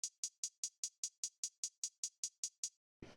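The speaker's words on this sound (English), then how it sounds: "it's just a pretty straightforward trap hi-hat" Trap hi-hat sample in a music production: a dozen crisp, bright closed-hat ticks in a steady even rhythm, close and alone, ending with a short darker noisy hit.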